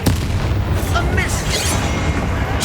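A Confringo spell explosion in Hogwarts Legacy gameplay, a loud continuous booming roar filling the short moment, with a voice speaking over the blast.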